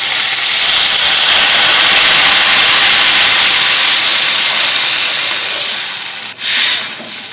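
Loud, continuous sizzling hiss of water poured into fried spice mix in a hot pan, holding steady for several seconds before dipping briefly and resurging near the end.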